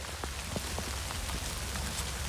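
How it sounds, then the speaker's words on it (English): Steady rain falling on surfaces outdoors, a dense continuous patter with scattered louder drops, close and fairly loud, no voices. "God, this rain. Can you hear it?"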